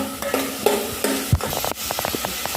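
Grated fresh coconut stirred into tomato rice in a pan, a close run of soft scraping and shuffling strokes with a faint sizzle underneath.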